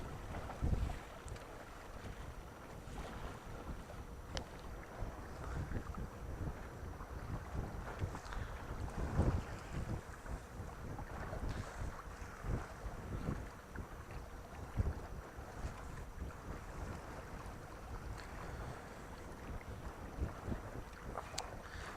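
Wildlife-watching boat cruising along a river's edge toward its mouth, its steady low hull and engine rumble mixed with wind buffeting the microphone and faint water wash, continuous with no talking.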